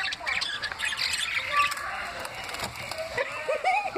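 Pet-store birds squawk and screech repeatedly in shrill, overlapping bursts close by, with some faint voices underneath.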